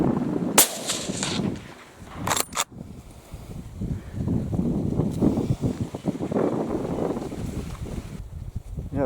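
Rifle shots fired during a roe buck hunt in Poland: a few sharp, loud cracks in the first seconds, followed by outdoor wind noise and rustling.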